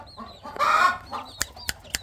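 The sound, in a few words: chickens clucking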